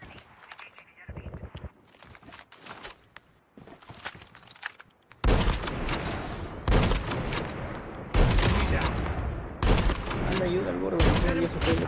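Bursts of gunfire in a battle-pass shooter video game, a few scattered shots early, then loud, dense volleys crackling in repeated rapid clusters, with players talking over the action.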